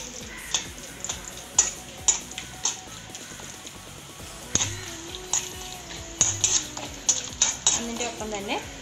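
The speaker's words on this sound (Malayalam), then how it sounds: "പിന്നെ ഈ പട്ടായ ഇല, ഗ്രാമ്പൂ എടുത്ത് വെച്ചിരിക്കുന്ന എല്ലാം കൂടെ ഇട്ട് മറ്റൊന്ന് ചെറുതായിട്ടൊന്ന് ഫ്രൈ ചെയ്തെടുക്കാം" Bay leaf, cloves and other whole spices frying in a pot for a home-made chicken dum biryani in a cooker, with soft sizzling under frequent metallic clinks and scrapes of a spoon stirring against the pot.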